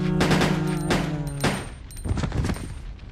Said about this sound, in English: So let's go ahead and test the custom handgun on a zombie